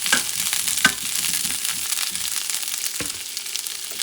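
Cauliflower browning in oil in a pan while cooking cod paella, a steady close hiss of sizzling with a few sharp crackles and pops, no voices.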